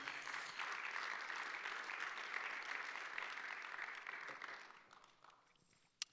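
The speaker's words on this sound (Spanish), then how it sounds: "Démosle palmas al Señor," A church congregation applauds in worship after a prayer, dense steady clapping that fills the room for about five seconds before thinning out and stopping, ending with one sharp knock.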